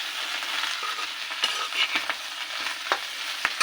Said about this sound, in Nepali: करैलो भुट्दैछु